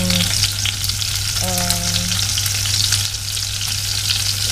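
Onion and ginger frying in rendered pork fat for pork adobo, a loud, dense, constant sizzle close by with a few faint clinks over it.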